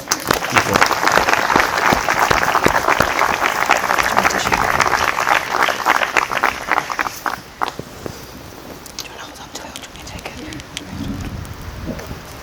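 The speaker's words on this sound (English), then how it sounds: "Big round of applause." Wedding ceremony guests applauding, dense clapping for about seven seconds that thins to scattered claps, with voices talking near the end.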